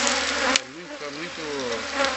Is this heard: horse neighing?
no